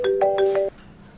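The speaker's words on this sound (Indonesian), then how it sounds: "bentar ya, aku ada telepon" A phone ringtone plays a short melodic pattern of bright electronic tones, repeating four quick pulses before cutting off abruptly, loud and close in a quiet room.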